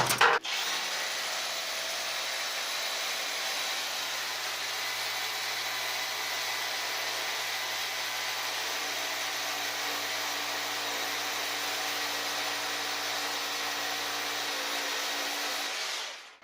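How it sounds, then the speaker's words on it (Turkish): An Assur 36V 5Ah cordless hammer drill bores steadily into a poured concrete wall, giving one loud continuous whirring grind that runs unbroken for about sixteen seconds and then stops abruptly, with no talk. "elektrikli bir matkabın vermiş olduğu bir darbe, bir performansı beklememek lazım"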